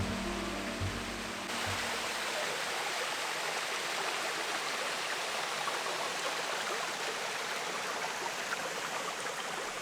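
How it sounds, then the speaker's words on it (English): Continuous rushing of creek water flowing steadily, a dense, even wash of sound with no voices. "So all this water flowing here is the same water that flows in the creek on our land."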